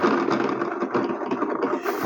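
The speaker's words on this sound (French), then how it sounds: "Mais elle a pas de force le moteur" A weak, underpowered small motor runs with a steady mid-pitched hum and slight rattle, close and continuous for a couple of seconds with no talking.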